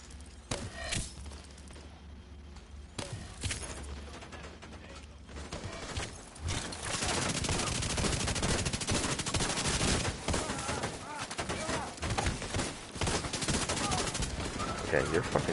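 Rapid gunfire from The Division 2, dense bursts and overlapping shots that build from sparse cracks into a loud, sustained barrage with occasional mechanical clatter.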